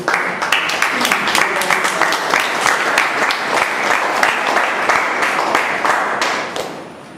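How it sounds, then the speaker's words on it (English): Sustained audience applause fills a Toastmasters club meeting room, many hands clapping steadily and fairly close for about seven seconds before tapering off at the end. "Ankur deserves a big round of applause"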